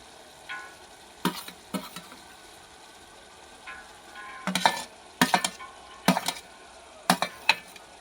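Onions and chillies stirred in a frying pan, a soft continuous sizzle punctuated by several sharp scraping clatters of a spoon against the pan, close by, with no talking.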